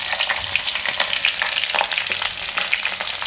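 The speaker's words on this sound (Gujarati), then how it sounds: "હવે તેલ ગરમ થઈ ગયું છે તો એમાં આપણે નાખશું રાઈ અને જીરું" Mustard seeds and cumin fry in hot oil for a Gujarati rice dish, a steady loud sizzle with crackling pops throughout and no talking.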